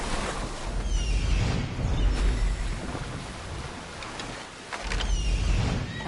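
Wind-blown ocean waves roll and surge around a boat at sea in Assassin's Creed Odyssey, loud and continuous with rising and falling swells and no talk.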